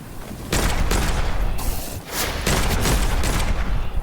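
Rapid bursts of gunfire from shooting witches in the video game Witchfire, loud and dense, in two long sustained volleys separated by a brief dip near the middle.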